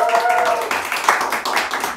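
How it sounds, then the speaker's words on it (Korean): Fans in a crowd clap together in a steady, dense patter that runs throughout, with speech mixed in underneath. "변희재 대표 팬들 한번 박수 한번 쳐주세요"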